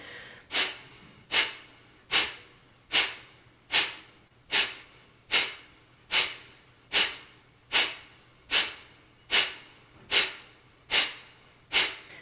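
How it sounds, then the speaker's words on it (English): Steady yoga breathing through the nose, a run of about fifteen evenly spaced, close breaths, each a sharp rushing onset that fades quickly, repeating roughly every 0.8 seconds with no talking. "inhaling a full breath through the nose. Exhale completely through the nose."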